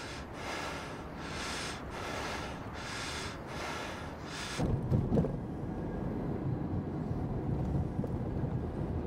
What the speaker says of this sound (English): The breathing that you hear is, that's not just once, that happens a lot of times